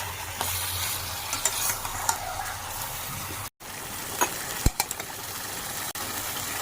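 Chicken frying with chili powder and turmeric powder while being stirred in a pan, a steady close sizzle with scraping strokes and occasional sharp clinks of a utensil, broken by a brief silent cut.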